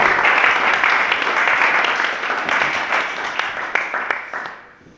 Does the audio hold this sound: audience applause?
yes